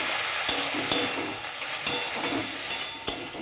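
Prawns frying with banana stem in a pan, a steady loud sizzle broken by sharp scraping strokes of a stirring spoon every half second or so, with no voices.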